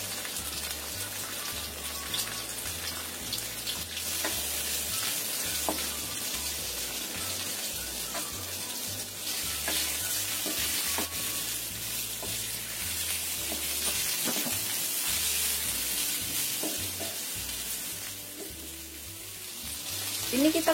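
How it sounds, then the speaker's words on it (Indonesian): Flour-coated chicken pieces fry in a little oil over low heat, a steady bright hiss and crackle with scattered pops lasting throughout, with no one speaking. "kita goreng ayam yang sudah kita potong-potong dan dikasih tepung tadi"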